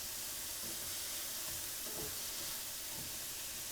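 Mushrooms sautéing in a pan while a low-carb chicken and riced cauliflower dish cooks, giving a steady, soft sizzle with light stirring noises close by, fairly quiet throughout.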